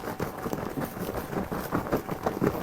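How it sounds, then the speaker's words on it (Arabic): A jerrycan of homemade laundry detergent mixed with warm water is shaken by hand, giving a quick, rhythmic run of close sloshing thumps throughout. "اهو يلا بقى نرج الجيركن."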